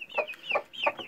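Chickens in a pen give a few close, quick clucks in soft bursts, with no talk.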